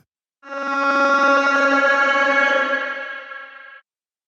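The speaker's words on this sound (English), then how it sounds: "basically just to do a big reverb throw" A sustained, heavily reverberant vocal tone swells and rings out for about three seconds, smeared into a washy tail before stopping abruptly.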